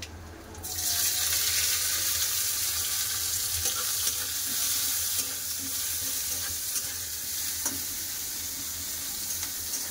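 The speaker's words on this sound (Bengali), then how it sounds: "ফোড়নে দিয়ে দেবো কালো জিরে, দিয়ে দেবো কেটে রাখা পেঁয়াজ" Chopped onions and black cumin dropped into hot oil start a loud, steady sizzle that carries on for the rest of the stretch as the pan is stirred, with no talking.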